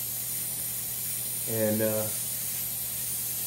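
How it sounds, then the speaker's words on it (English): An airbrush sprays automotive base coat, PPG Shop Line thinned 50-50, onto a Harley: a single short hissing burst of about half a second amid a quiet steady background hum. "I'm using base coat, mixed 50-50, just like you'd spray it out of a paint gun."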